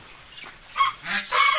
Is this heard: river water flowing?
no